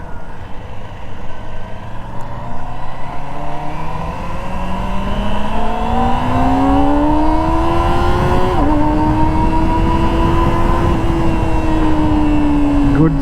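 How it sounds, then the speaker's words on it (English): A Kawasaki ZX-25R SE, a 2024 motorcycle with a high-revving four-cylinder engine, screams loudly and up close as it accelerates, its pitch climbing steadily through the gears with a brief dip at a shift, then holding high. "Kawasaki engine."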